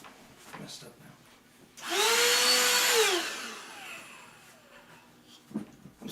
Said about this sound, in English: Just a quick spot vacuum right there.